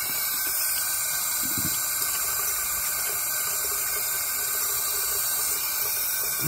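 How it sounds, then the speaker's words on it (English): A faulty sink faucet runs and leaks water in a steady, close hiss and trickle, continuous throughout with no voices. "This is what's causing the leak underneath the sink."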